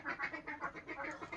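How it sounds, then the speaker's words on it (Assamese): Ducks quack repeatedly nearby in the early morning, a rhythmic run of nasal calls about every fifth of a second, clear and fairly quiet with no talking. "কিনাৰতে হাঁহৰ মাত শুনিছোঁ"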